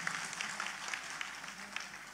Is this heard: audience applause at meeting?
yes